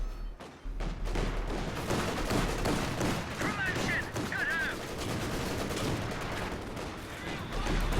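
Company of Heroes 2 units firing at each other in a 3v3 match, with rapid bursts of gunfire and crackling shots over a busy battle backdrop, alongside voices.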